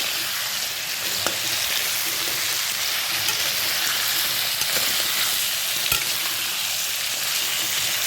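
Spices with turmeric powder frying in oil in a pan, giving a steady, dense sizzle that holds evenly throughout with a few faint clicks, and no voices.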